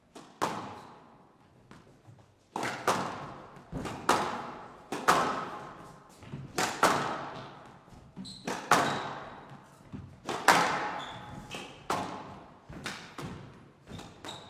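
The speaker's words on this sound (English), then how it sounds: "wow, that's a good shot from ElSherbini" Squash ball struck repeatedly in a professional women's rally at the London Squash Classic, sharp echoing thwacks off racket and walls in an irregular rally rhythm, close and loud, with faint crowd or commentary underneath.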